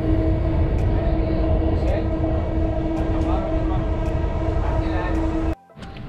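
Riding inside a Dubai Metro train on the Green Line: a steady, loud rolling rumble with a sustained motor whine and occasional clicks, then an abrupt drop near the end.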